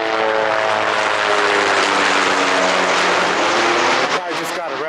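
A loud, steady rotor-engine drone hangs overhead with a strong whirring hum, fading slightly near the end.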